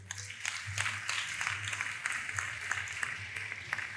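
An audience gives a round of applause for a student, quiet, steady clapping with scattered sharp individual claps over a low background hum.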